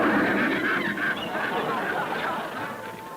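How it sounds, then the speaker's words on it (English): Cartoon wild geese honk in a dense, continuous flock chorus, loud and close for a few seconds before tapering off slightly. "Don't tangle with any wild geese."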